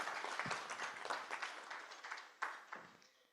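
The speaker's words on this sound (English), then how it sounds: "please clap for Mr. Eric" An audience at a social protection dialogue gives a panelist a faint, distant round of applause, a soft patter of scattered claps with a few sharper ones standing out.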